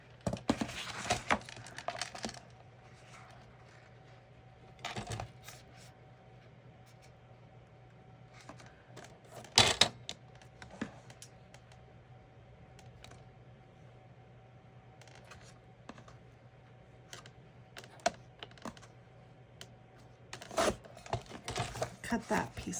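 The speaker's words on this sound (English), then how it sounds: "Once I have it where I want it, I'm just going to cut that piece right off." A paper cutter slices card stock for a handmade gatefold card in short, sharp swishing strokes, with a few bursts and scattered small clicks over a low steady hum in a quiet room.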